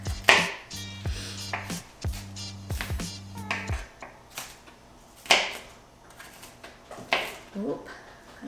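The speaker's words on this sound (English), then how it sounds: "So I'm gonna go through and just chop my onion a little bit smaller." Knife chopping onion on a cutting board, a run of sharp close taps in quick bursts with pauses between, fairly loud and without any talk over them.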